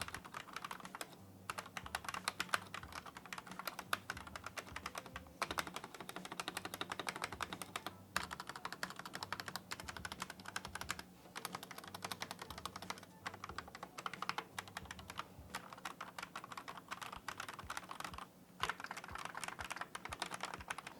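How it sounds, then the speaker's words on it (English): Steady typing on a stock GAS67 mechanical keyboard, a dense clatter of key presses with brief pauses, fairly close and moderately quiet. "Here's a sound test of the keyboard completely stock."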